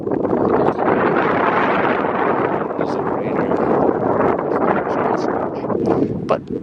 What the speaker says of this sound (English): It is gusting at maybe 20, 30 miles an hour.